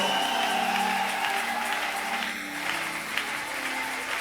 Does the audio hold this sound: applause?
yes